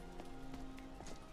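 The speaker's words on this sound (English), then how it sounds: "because it's raining" Steady rain falling in Skyrim during a thunderstorm, a constant soft patter at moderate level across the whole moment with no voices.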